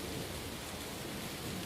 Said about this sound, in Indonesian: Hujan lebat membasahi kawasan elit Nishiyama.